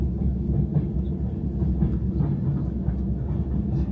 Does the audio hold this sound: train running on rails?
yes